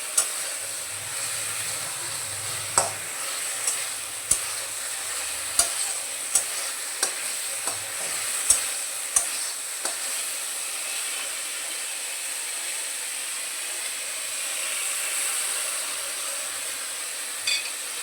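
Spices frying down in a pan for a spicy pangash fish curry, a steady bright sizzle and hiss with sharp, scattered spatula taps and scrapes, loudest early on and then mostly continuous frying, close up with no talk.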